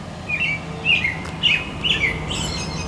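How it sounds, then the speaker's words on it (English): Several birds chirp at dawn around 5:15 a.m. in short, bright bursts spaced about half a second apart, fairly close, over a low steady background hum. "Birds are chirping."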